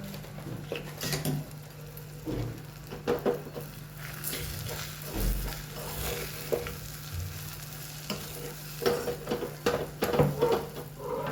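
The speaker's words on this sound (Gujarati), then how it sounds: "બસ હવે આપણે આમાં 1 મોટી ચમચી જેટલો સાંભાર મસાલો એડ કરીએ" Sambar masala sizzles in a little hot oil in a pan, with a soft steady frying hiss and repeated scraping and clinking as a spoon stirs it.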